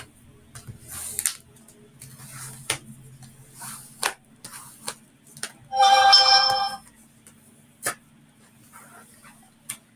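A mobile phone rings with a short, bright, tonal burst midway through, in a quiet room where a vintage maps envelope journal is being glued, with light handling noises scattered around it.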